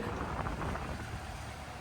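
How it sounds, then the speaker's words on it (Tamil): Strong wind at sea buffets the microphone with a loud, continuous broadband rush and low rumble. "இன்றைக்கே வந்து காற்று ரொம்ப அதிகமாகவே வந்து அடிச்சிச்சு"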